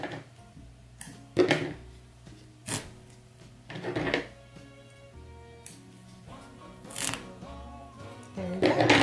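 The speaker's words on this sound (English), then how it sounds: "So I'm just going to snip the basting stitch." Scissors cut through a basting stitch on a fabric panel of a Santa plushie hat, giving a few separate crisp snips and small rustles of cloth, close by, with quiet pauses between them.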